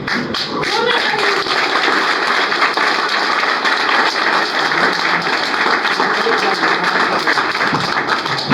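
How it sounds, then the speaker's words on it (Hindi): Loud audience applause from a crowd at a business talk rolls on continuously and densely, with voices mixed through the clapping. "अच्छा, ये जोरदार तालियां थी।"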